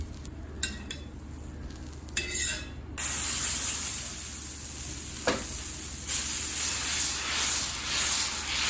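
A tomato dosa sizzles on a hot pan; a few light spatula scrapes come first, then a steady loud hiss of frying swells as it is flipped and keeps crackling.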